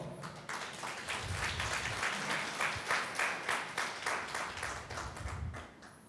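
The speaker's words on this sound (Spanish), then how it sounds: "Dele un aplauso al Señor" Applause from a church congregation during a Spanish-language service, a dense, sustained wash of many hands clapping in a large room. It swells to a steady, loud level, with rhythmic pulses near the end, then tapers off after about six seconds.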